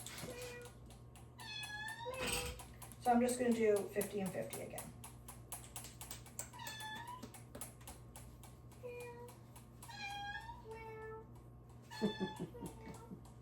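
Several short cat meows come and go over a few clicks and taps, while a person speaks briefly in between.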